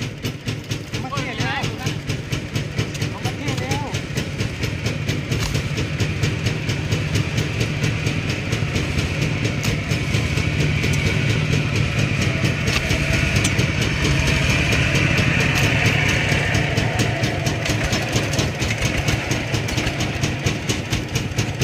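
An M8808 tractor pulls a trailer loaded with palm, its engine chugging in a steady, rhythmic throb that stays loud and close for the whole stretch while people talk over it.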